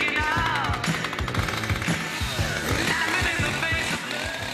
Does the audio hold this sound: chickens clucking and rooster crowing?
no